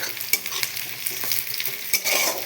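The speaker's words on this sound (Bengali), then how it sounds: "লাল লাল করে ভেজে নিচ্ছি।" Sliced onions browning in a hot pan give a continuous bright sizzle with quick crackles and a few stirring scrapes, steady and close throughout, no speech.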